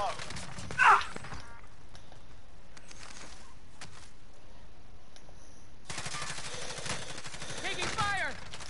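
Video game gunfire comes as a sharp burst at the start, then a longer rattling volley later. Voices are heard over it.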